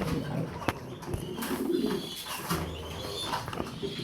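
Racing pigeons coo in low, soft, repeated murmurs, several birds overlapping nearby over a faint steady background hum.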